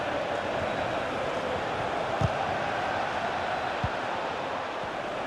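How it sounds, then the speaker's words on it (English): Chelsea football supporters roar in a stadium during the tense closing minutes of a match, a broad, steady crowd din filling the whole stretch with a couple of brief thumps. "just listen to these Chelsea fans. The crowd very much behind the team."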